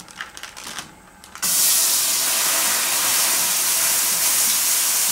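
Coconut cream hits a hot pan with a sudden loud, steady sizzling hiss that starts after a moment of faint clatter and continues unbroken, close and intense, for a Thai catfish curry.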